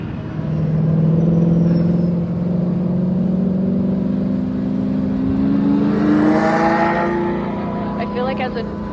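Race cars lapping the track at Circuit of the Americas, a Porsche closing from behind, with a steady loud engine drone rising in pitch under the in-car roar and a second car's whine swelling near the end.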